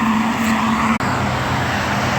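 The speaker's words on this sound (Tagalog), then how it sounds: "Walang katapusan yung mga sasakyan." Night road traffic in Abu Dhabi roars continuously near a bus stop, a dense steady rumble of passing cars with a brief cut near the start and no voices.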